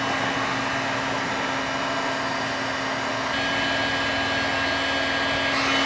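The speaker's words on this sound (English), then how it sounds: "We'll get a heat gun on that." A heat gun blows hot air onto a damaged thick plastic car bumper during repair prep, giving a loud, steady close-up roar with a constant hum that holds throughout, with no talk.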